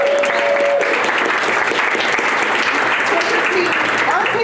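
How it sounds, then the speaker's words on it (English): An audience at an artists' talk bursts into dense, continuous applause, loud and close, holding steady for several seconds. "I think that deserves a round of applause."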